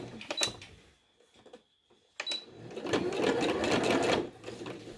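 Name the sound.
sewing machine stitching zigzag on fabric for a washable mask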